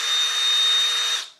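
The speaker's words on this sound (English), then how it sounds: "So if we drill these out, so see the drill is ever so slightly catching." Power drill boring out rivets on an aircraft horizontal stabiliser, a single loud steady high-pitched whine lasting just over a second before spinning down, close and alone.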